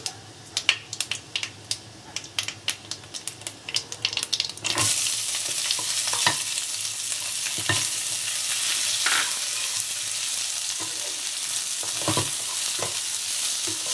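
Chopped onions dropped into a pan for Bengali-style chicken ghonto, a burst of loud continuous frying after a few sharp clinks, with occasional spatula scrapes as they brown.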